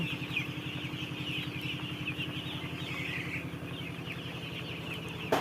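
Broiler chickens, starting to pant in the warm weather, cluck in a dense, rhythmic chorus at close range, with a steady mechanical hum underneath.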